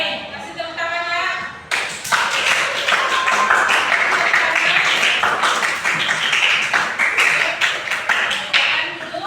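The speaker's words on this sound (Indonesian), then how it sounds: "Oke, kasih tepuk tangan ya." Audience applause at an academic supervision coaching session, a dense burst of many hands clapping that starts abruptly and holds steady to the end, with a brief murmur of voices before it.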